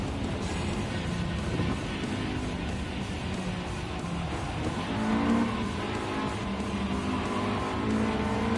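A race car corners in Gran Turismo 7 on PSVR2, its engine holding a steady, loud, close roar with hints of tire noise throughout.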